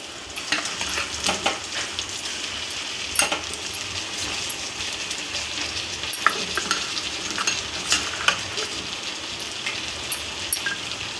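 Ginger garlic paste fries in a pan, with a steady close sizzle throughout and frequent metallic clinks and scrapes of a spoon against the pan, no talking.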